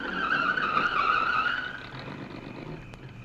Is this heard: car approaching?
yes